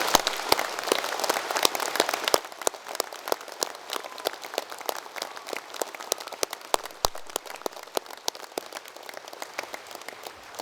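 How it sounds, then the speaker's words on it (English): Sustained applause from a graduation ceremony audience honouring graduates at Massey University in Manawatū, a dense steady patter of many hands clapping together for the full stretch without a break. "can we just give a round of applause to our beautiful graduates"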